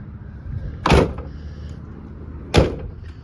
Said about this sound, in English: Rear doors open and close proper, rear hatch closes proper.